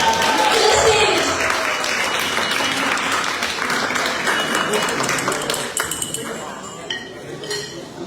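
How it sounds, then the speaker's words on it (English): An audience claps to welcome a performer to the stage at a birthday show, loud dense applause fading gradually over several seconds, with clinking dishes and cutlery mixed in. "Let's give a big round of applause as we welcome Vince Joshua"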